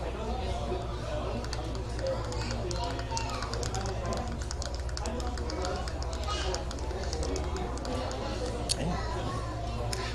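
Magic: The Gathering decks being shuffled at a Friday Night Magic tournament, a steady patter of soft card riffles and taps mixed into constant crowd chatter and room noise.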